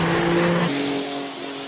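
A Porsche 911 Turbo (996) engine revs hard against the limiter at a Cape Town hill-climb speed event, a loud sustained roar with a pitch drop partway through as it shifts gear.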